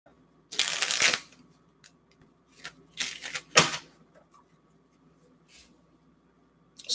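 A deck of tarot cards is shuffled close up: quick riffling bursts, then a couple of shorter flicks and taps, with quiet pauses between.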